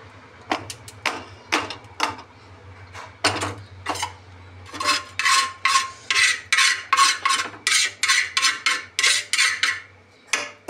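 A homemade remedy is strained through a sieve into a bowl: a series of sharp metallic taps and scrapes, sparse at first, then a quicker steady run of rhythmic clinks, close and distinct over a low hum.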